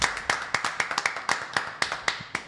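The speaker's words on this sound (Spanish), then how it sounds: "Vamos a darle un fuerte aplauso a Carlos Martínez Portes." An audience applauds a speaker at a talk on capital gains and taxation, producing a brief burst of sharp, uneven hand claps that stays fairly sparse and close, with no voices over it.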